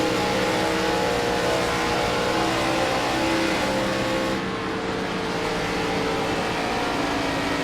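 NASCAR race cars roar in the iRacing sim during a 2003-season career race at The Winston, a dense, steady engine drone with layered revving throughout, loud and continuous with no talk.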